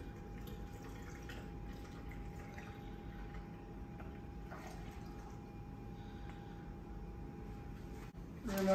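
Skim milk pours into a protein shaker with a soft, steady trickle and faint drips, quiet and close, ending with a brief knock.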